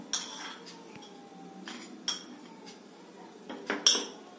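Chopped onion and green chili being mixed in a bowl, heard as a few scattered clinks and scrapes of a utensil against the dish, soft and irregular in a quiet kitchen.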